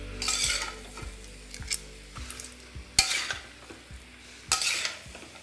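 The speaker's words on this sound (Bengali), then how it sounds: "এবার দেখুন মশলাটা আমার এখানে খুব ভালো করে মেশানো হয়ে গেছে" Spices and mixed winter vegetables stirred in a pan for a Bengali vegetarian curry, with scraping strokes of a utensil, light sizzling and occasional clinks of metal against the pan, close and alone.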